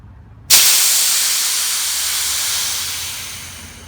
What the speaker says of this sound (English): got all the residual pressure released